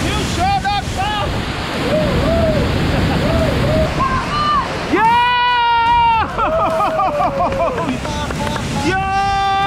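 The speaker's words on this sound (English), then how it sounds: "Behold! The waterfall!" A waterfall in Fayoum, Egypt roars steadily up close while excited voices shout and whoop over the constant rushing water.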